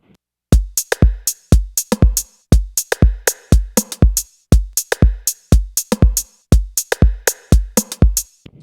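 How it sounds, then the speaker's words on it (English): A punchy drum machine house beat loops steadily: thumping kicks, crisp hi-hats and 808 and 909 rim clicks in a tight four-on-the-floor groove, loud and alone. "So kind of like a little housey beat here"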